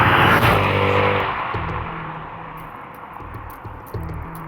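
Mercedes-Benz S63 AMG sedan exhaust, loud and close, with a deep engine rumble that swells early then settles into a lower steady drone, with brief surges near the end.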